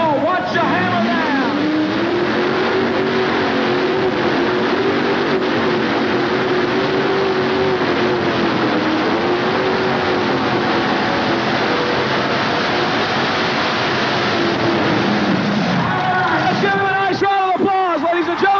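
A pulling tractor's engine roars loud and close at a 1980s tractor pull, holding a sustained throttled drone with shifting pitch and an announcer talking over it, easing off near the end.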